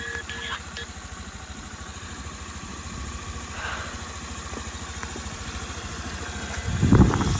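A Honda Benly AA05 scooter's fuel-injected four-stroke engine idles steadily with a low, even putter, close by, with a brief louder burst near the end.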